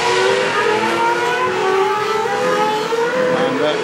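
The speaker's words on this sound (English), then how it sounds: "There's a particular shrill sound about a V12, and these motors sound absolutely magnificent." A V12 race car engine accelerates hard on a racing circuit in Superleague Formula, a loud, shrill, continuous high-pitched howl that holds steady throughout with no pauses.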